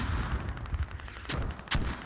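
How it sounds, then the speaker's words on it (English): Artillery shells land in a wartime video game match, a rapid run of sharp blasts and gunfire-like cracks, with two louder, crisper impacts standing out near the end. "The artillery landing over here"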